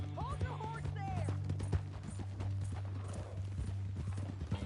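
Hooves clip-clop in a steady trotting rhythm in the video game Red Dead Redemption 2, with a horse whinnying and light game music underneath.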